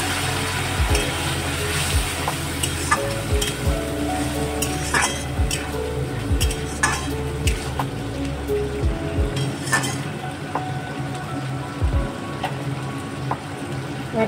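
Hot water poured into mushroom masala sizzling in a pan, a steady loud hiss and bubbling with stirring scrapes and pan knocks throughout, settling slightly toward the end.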